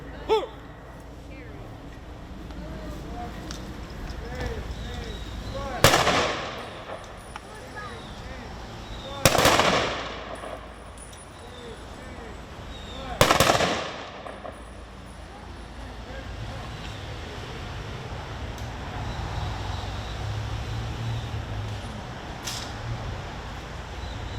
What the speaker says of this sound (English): will render a three-volley rifle salute